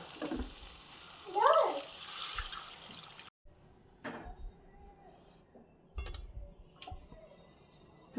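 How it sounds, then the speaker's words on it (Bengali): Water is poured into a potato, tomato and spice curry simmering in a pan, making a short splashing gush, followed by quieter liquid sounds and a few clinks of pot and utensil. "এরপর আমি এখানে দিয়ে দেবো জল"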